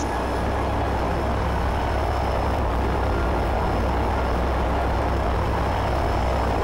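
Steady, loud airplane engine drone inside a zombie shooter game, a continuous broadband roar that holds unchanged throughout with no pauses.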